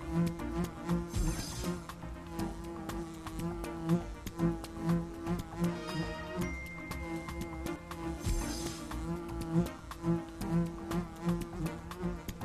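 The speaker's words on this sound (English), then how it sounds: "Uh-oh! Look out for the bees!" Buzzing bees in the Wild Kratts Creature Power mobile game, a droning insect hum woven through upbeat game music and sound effects across the whole stretch.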